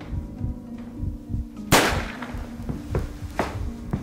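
A single sharp gunshot cracks out close and loud, standing above a low repetitive thudding background with no voices.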